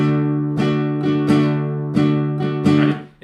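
An acoustic guitar strums chords alone, its strokes falling in uneven long-short pairs that give a bouncy, swinging rhythm.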